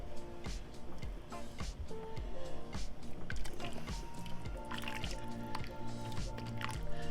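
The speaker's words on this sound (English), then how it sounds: "I'm going to add a little bit and stir." Shredded cheese is stirred into a creamy white chicken lasagna soup in a pot, giving close, wet squishing and dripping sounds with soft spoon clinks, irregular and continuous.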